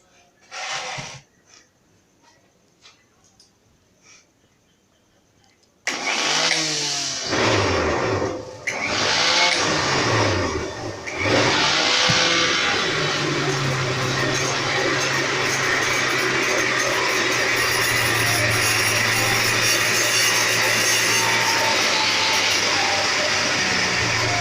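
A homemade jet engine, spun up with no fuel added, whines loudly in a steady high rush after quiet handling sounds and a few clicks, its pitch sweeping up and down before settling into a sustained fast spin.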